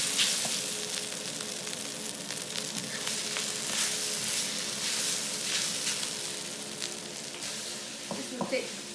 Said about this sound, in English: you just stir it just to keep it from sticking into the wok